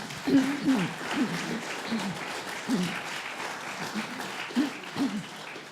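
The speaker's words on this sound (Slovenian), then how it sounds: "torej naša Milada si res zasluži aplavz" An audience applauding steadily in a room, a continuous patter of clapping with a voice faintly heard over it.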